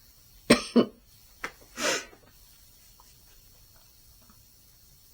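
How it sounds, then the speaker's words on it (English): A coughing fit close by: two sharp coughs in quick succession, a lighter cough, then a longer rasping one, followed by near silence. "I full on had a coughing fit just then."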